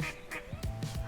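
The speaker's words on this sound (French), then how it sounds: "Oh, un canard!" A duck near a hot bubbling fountain gives a quick run of about four short, raspy quacks, close and fairly loud over faint background noise.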